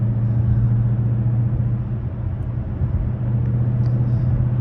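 Dodge Challenger Scat Pack engine at night through an open window, a steady low rumble that hums continuously for the whole stretch at an even level, with no voices.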